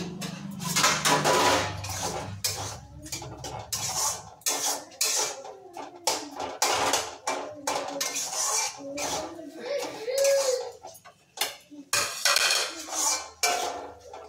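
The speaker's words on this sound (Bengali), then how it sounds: "এবার ঢাকাটা খুলি।" A cooking pot's lid is lifted on a kitchen stove, with metallic clatter and clinks of pots and utensils in a dense run of sharp knocks throughout.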